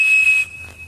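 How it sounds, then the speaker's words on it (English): A Cap'n Crunch cereal-box toy whistle sounds a thin, piercing 2600 Hz tone that holds steady through the whole second, loud at first and then dropping to a quieter level partway through. "the Captain Crunch whistle"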